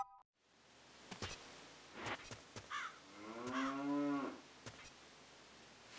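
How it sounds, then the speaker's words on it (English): A cow lows in Zelda: Ocarina of Time Master Quest, one drawn-out moo rising and falling over a hissy background, with a few brief clicks around it. "Oh no, this is the cow."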